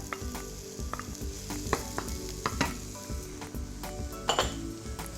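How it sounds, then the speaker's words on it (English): Finely chopped shallots and chestnut mushrooms fry in a pan with a steady, close sizzle, broken by frequent crackles and light scrapes from stirring. "I'm going to leave those to fry"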